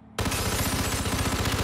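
Rapid gunfire erupts in Hitman 3 after a brief quiet lead-in, a loud sustained burst of repeated shots rattling continuously to the end.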